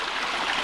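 A stream feeds water into a perforated pipe intake on an off-grid farm water system, making a steady broadband rush and gurgle throughout, close and continuous with no voices.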